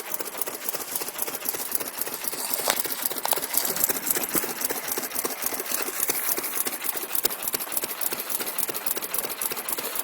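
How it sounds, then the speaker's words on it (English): A 1 hp Mogul antique hit-and-miss gasoline engine runs outdoors on a cold day, giving a steady, dense stream of rapid mechanical clatter and ticking at moderate distance throughout, with no talk. "This little engine's been running all morning."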